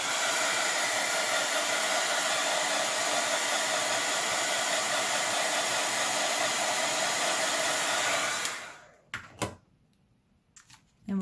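Hair dryer blowing steadily and loudly over wet paint on a rock fairy house for about eight seconds, then switching off, followed by a few faint handling knocks.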